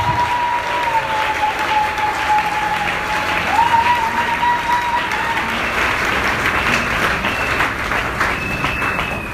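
A church congregation applauding steadily and loudly throughout, a dense wash of clapping from a large crowd with faint cheering voices mixed in.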